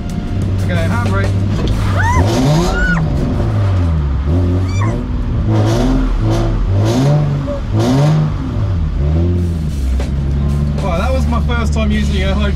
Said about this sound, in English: We're meant to do a handbrake turn.